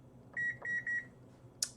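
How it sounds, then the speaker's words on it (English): A kitchen-style timer beeps while being set: three short, clear electronic beeps in quick succession, fairly close, followed by a brief sharper click in an otherwise quiet room. "Let's set a timer for 5 minutes."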